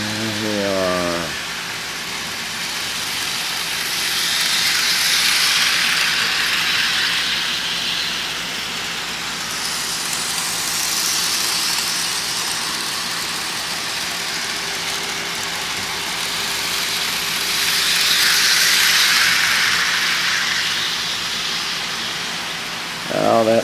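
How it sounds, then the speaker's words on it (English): A small model Baltimore train circles a Christmas town display, its soft running whir rising and fading as it passes near and then moves away, repeating several times over a continuous low hiss. "Now that little Baltimore train is going to go into the other part of town, more into the suburban part of town."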